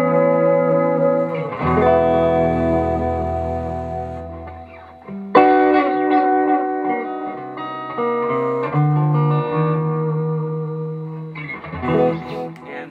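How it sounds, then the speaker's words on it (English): An electric guitar plays through a Strymon El Capistan tape echo pedal: warm, lush sustained chords and notes trail off in soft repeating echo tails, with a fresh strum around the middle and more playing near the end. "And then this one is just a tape echo."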